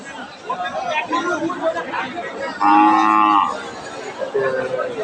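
A six-toothed, bony cow for Qurbani moos once, loud and drawn out for nearly a second, amid steady chatter and voices at a busy cattle market.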